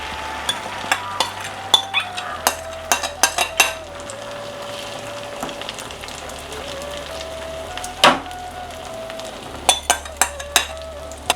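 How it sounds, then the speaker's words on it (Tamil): A beaten fish and egg mixture for a fish omelette frying in hot oil makes a moderate sizzle under repeated sharp clinks of a utensil striking the pan, with a faint steady hum in the background. "வாங்க நம்ம பீட் பண்ணி வச்ச ஃபிஷ் அண்ட் எக்கை"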